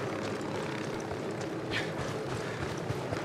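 Helicopter rotor in the video game Tom Clancy's Ghost Recon Wildlands, a steady, loud whirring drone with continuous engine noise that holds throughout.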